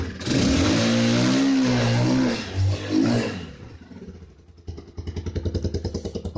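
A cold 2016 Italika DM250 motorcycle engine roars loudly at high revs, then drops back to a faster, sputtering idle with rhythmic pulses.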